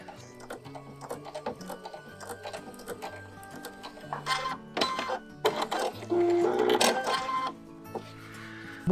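A sewing machine stitches a zigzag stitch across fabric gift tags, its busy rhythmic mechanical chatter close and continuous, growing louder and denser partway through, with no speech.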